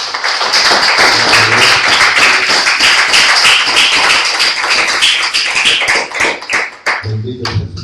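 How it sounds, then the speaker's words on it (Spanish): A church congregation claps together in dense, steady applause, loud and close, with a few voices mixed in, tapering off near the end as the clapping thins out. "Denle un aplauso al Señor."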